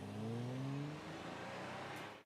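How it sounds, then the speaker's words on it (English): A car engine revs and accelerates, its rising whine sweeping upward over about two seconds, loud and close, set within a song. "that's a sexy car sound"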